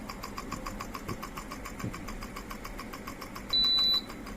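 A converted BLDC ceiling fan motor without blades runs at high speed as a steady, faint whirring hum with a regular pulsing texture, and a brief electronic beep sounds near the end.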